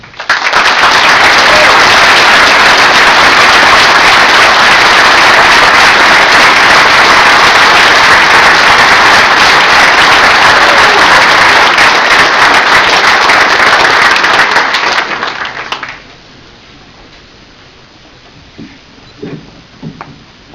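Loud, dense applause from a meeting audience welcoming guest speaker Tom Foley, sustained for about fifteen seconds, then cutting off to quiet room tone with a few faint sounds.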